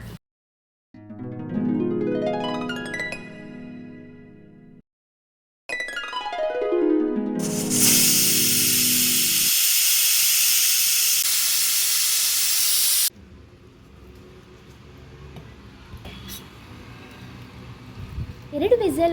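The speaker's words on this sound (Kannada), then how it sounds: "ನಂತರ ಕುಕ್ಕರ್ಗೆ ಹಾಕಿ 2 ವಿಸಲ್ ಬರುವವರೆಗೆ ಬೇಯಿಸಿಕೊಳ್ಳಬೇಕು" A pressure cooker on a stove cooking tomatoes and tamarind with water and turmeric for a Karnataka coconut saaru lets out two loud whistles, each a rising shriek, then a long steady hiss of escaping steam that stops abruptly, followed by quieter kitchen noise.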